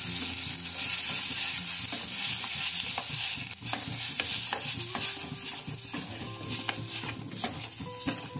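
Ground peas roasting in a pan over a medium gas flame make a dense, steady sizzle close by, with frequent scraping and light clinks from stirring.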